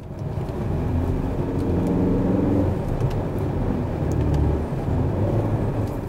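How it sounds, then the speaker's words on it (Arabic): A 2017 Peugeot 3008 engine hums steadily and close by, a smooth, constant drone with a faint low rumble lasting throughout and no voices. "صوت الفالف اللي بيطلع معاك راح أحاول أطلع لكم إياه"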